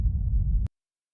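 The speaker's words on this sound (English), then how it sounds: "So without the LFO6 automating the phase distortion, my kick sounds like this." A synthesized hard techno kick without phase distortion automation sounds as a short, deep low-end rumble. It lasts under a second, ends in a small click, then falls to silence.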